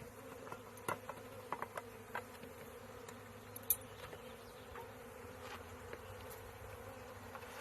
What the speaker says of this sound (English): I'm going to shake the bees into the hive.